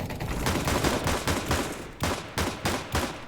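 Pistol shots in a CS:GO match, a rapid run of sharp cracks in the first two seconds followed by three or four spaced single shots, loud and close with game noise underneath.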